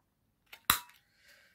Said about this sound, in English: I'm going to round the corners.